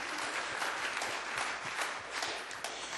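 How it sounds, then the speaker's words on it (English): Steady, dense applause fills a city council meeting room as the audience claps for an honoree, continuous and even throughout with no voices on top. "please give her a round of applause"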